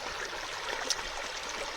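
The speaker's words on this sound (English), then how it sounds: "you'll notice behind me there is some running water" A stream runs beside a backpacking campsite with a steady, close rushing and trickling wash. The water is heard alone and stays even throughout.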